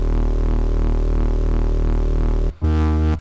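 A sustained, buzzing jump up drum and bass synth bass with diode distortion drones steadily and loudly, then cuts briefly and returns with a new, brighter tone near the end, with no voices.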